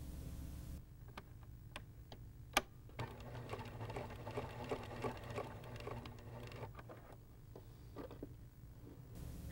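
A Pfaff sewing machine runs steadily while stitching a hem, its fast mechanical needle patter continuous and close, with a few sharp clicks and a brief loud tap partway through.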